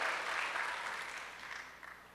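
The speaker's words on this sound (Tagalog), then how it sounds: "You deserve a clap offering for that" A church congregation gives a clap offering, a dense burst of applause that starts fairly loud and gradually fades, with a few scattered claps at the end.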